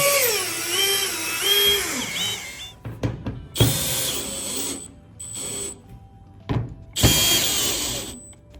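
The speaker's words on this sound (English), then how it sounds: "our drill and evenly install our screws" A power drill drives screws into a metal standing seam roof panel over butyl tape, whirring in several bursts that rise and stop between pauses.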